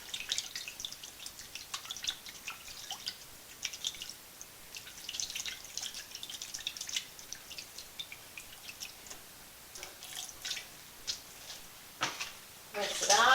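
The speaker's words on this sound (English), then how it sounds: "I'm going to swish them around real good." Makeup brushes swished through soapy water give soft wet sloshing with scattered drips and splashes, fairly faint and steady throughout, with a slightly louder splash near the end.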